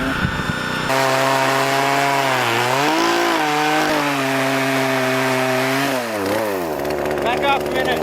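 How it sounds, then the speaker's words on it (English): A chainsaw roars up close, its engine pitch dipping and bogging down twice as it bites into a large log holding a bee nest, then revving back up. "How's the chainsaw?"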